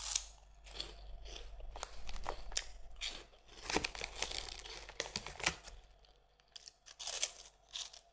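Herr's jalapeno popper snacks bitten and crunched near the mic, with several sharp crunches followed by quieter chewing between bites and no talking.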